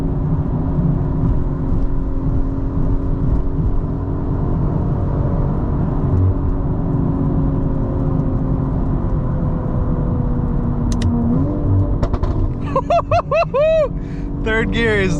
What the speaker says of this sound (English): Third gear is downshifting into third.